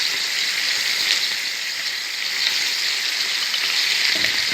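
Onion and spices frying in a pan for chicken tagine, giving a continuous, even, close-up sizzle with no talking.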